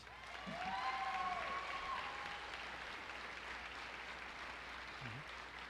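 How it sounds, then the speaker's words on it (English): At the OCA 2021 graduation ceremony, the audience applauds a graduate with a faint, distant, even patter of clapping that holds steady throughout, with a brief whistle-like tone near the start. "Please give a round of applause to Madison Elliott."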